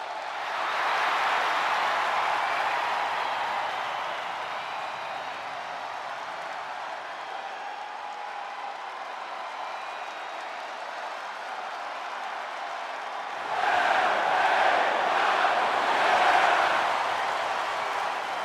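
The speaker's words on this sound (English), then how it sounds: "the roar of the crowd tells you all you need to know" A video-game wrestling arena crowd from WWE 2K25 roars and applauds steadily for a wrestler's entrance, a broad sustained wash of cheering that swells louder near the end.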